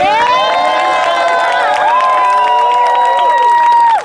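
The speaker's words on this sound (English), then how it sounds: "please give yourselves a round of applause for being here" A crowd at a demonstration outside Los Angeles City Hall cheers and applauds steadily, with whoops and shouting rising over a continuous roar of clapping that holds loud for about four seconds before cutting off.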